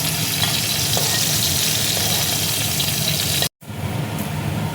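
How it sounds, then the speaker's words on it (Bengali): Cauliflower frying in oil in a wok with turmeric, a loud, close, continuous sizzle and crackle with faint stirring scrapes, cut by a brief gap before the hiss resumes. "কপিটা দেখো ভাজা হয়ে গেছে।"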